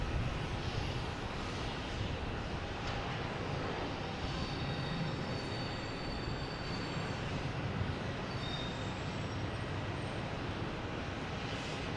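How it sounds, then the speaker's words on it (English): An American Airlines airliner arriving at Boston Logan from Reagan airport produces a steady, distant engine roar that holds constant throughout, alone without voices. "That was American Airlines coming in from Reagan."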